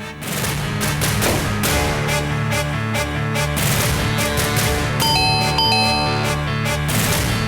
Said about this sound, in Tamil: எவ்வளவு நேரமா காலிங் பெல் அடிக்கிறேன்